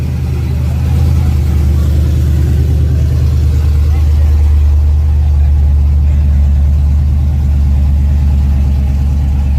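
Drag racing cars at Yellow Belly track, a loud, deep engine rumble holding steady near the start line with swells of revving, while people talk faintly underneath.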